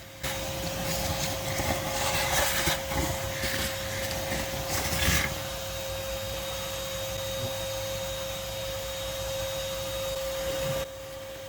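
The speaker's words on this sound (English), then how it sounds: "I'll just come back up with the vacuum cleaner and just start sucking them back out." A vacuum cleaner drones steadily close by, with a high whine and rattling bursts as yellow jacket wasps from a nest are sucked in during the first few seconds.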